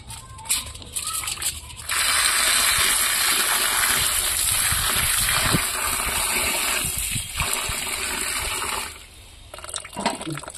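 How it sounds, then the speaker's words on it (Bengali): Water gushes and splashes steadily for several seconds while cut young jackfruit is rinsed, a loud continuous pour that fades near the end, with sharper splashes at the start and finish. "আমি কাটা এঁচোড়গুলো পরিষ্কার করে একটু ধুয়ে নেবো।"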